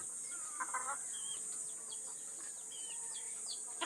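Chickens at feeding time give soft clucks and short calls against a steady outdoor hiss, with faint chirps from other birds nearby, including pigeons joining the meal.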